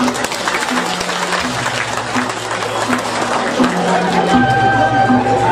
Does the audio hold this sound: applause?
yes